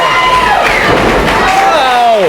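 Wrestling crowd at a UWA Elite Brawl For It All 2016 show cheering loudly and continuously, a dense roar with whistles and shouts throughout.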